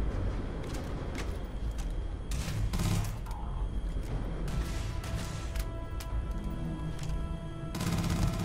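Rapid bursts of gunfire in the game Starfield, with scattered shots and sharp impacts over a dense, steady background of noise.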